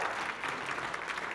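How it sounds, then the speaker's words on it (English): A church congregation applauds during a Sunday service, steady broadband clapping from many hands filling the room for a moment, moderately loud and continuous with no talk over it. "give the Lord a little applause today"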